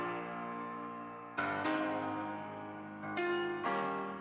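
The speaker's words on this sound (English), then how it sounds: "I got the chords from the original track, which sound like this." Sustained chords from the original surf rock track, four clean chord strikes each ringing out with a bright, rich harmonic tone, played alone at a moderate level.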